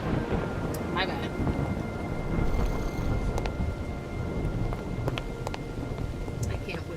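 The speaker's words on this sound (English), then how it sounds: "I can't with the thundering sounds. They're so loud." Thunder rumbles through a Minecraft storm over steady rain, a dense continuous roar with brief sharper cracks layered in and no break across the stretch.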